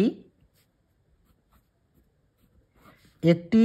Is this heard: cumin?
no